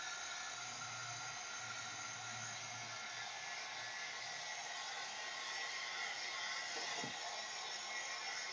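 Heat tool blowing hot air onto a stencil on a low setting, a steady, close, airy whoosh that holds evenly throughout with no speech.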